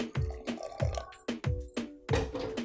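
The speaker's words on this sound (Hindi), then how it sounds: "थोड़ा सा और पानी डालेंगे" Water splashes and drips into a metal pressure cooker in several uneven bursts, close by, with a hollow ringing quality and no talking.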